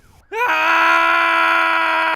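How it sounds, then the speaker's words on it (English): A single loud, sustained high-pitched scream from an animated character, steady and close, lasting about two seconds before cutting off abruptly. "grips the dashboard and screams."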